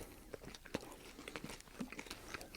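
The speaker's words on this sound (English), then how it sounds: "It's quite crunchy." Someone bites and chews a crunchy Devour chocolate bar close to the microphone, giving a string of sharp crunches and snaps with softer chewing in between and no talking.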